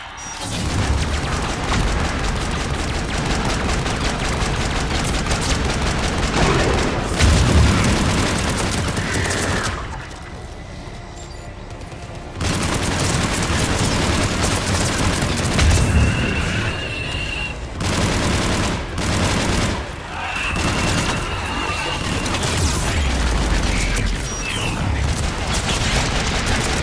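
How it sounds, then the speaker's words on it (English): Missile launches and heavy explosions fill a sci-fi shooter battle at a temple on Thessia, a dense, loud barrage of booms and rumbling fire that continues almost without pause. "That's the missiles."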